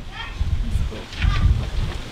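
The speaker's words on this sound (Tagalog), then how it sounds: "ang lakas ng hangin" Gusty typhoon wind roars across the microphone at an outdoor cooking spot, in heavy low rumbling bursts, loud and close, with rain-like hiss in the background.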